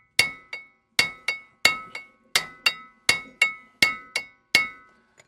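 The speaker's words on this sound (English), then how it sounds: "we're gonna give her a couple more soft whacks" Soft hammer whacks strike the rear brake of a 2018 Subaru Crosstrek in a repair shop, about fourteen sharp metallic clanks landing in quick pairs, each ringing briefly before fading, loud and close with no talking.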